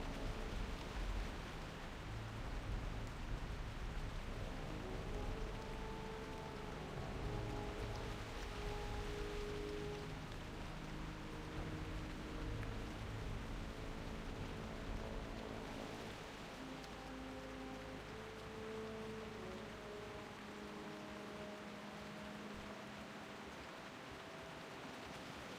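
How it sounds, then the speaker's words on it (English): Steady rain hisses across a World of Warcraft Classic landscape in Un'Goro Crater, a soft even wash of drops with faint low tones beneath, no voices. "And it just started to rain."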